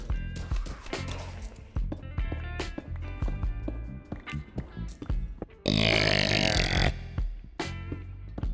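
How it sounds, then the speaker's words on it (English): One long, loud, gravelly burp rumbles close to the mic, rising to a harsh peak before it fades, set over busy Minecraft game sounds. "That was a good burp."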